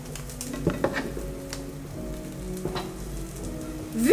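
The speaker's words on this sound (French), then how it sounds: "On laisse cuire un petit peu." Hiroshima-style okonomiyaki cooking on top of an egg, a steady moderate sizzle with a few soft scrapes and taps, near and otherwise quiet.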